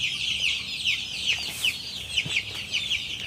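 Pastured broiler chickens cluck in a close flock, with repeated short calls and soft chatter running steadily throughout, over a faint outdoor background.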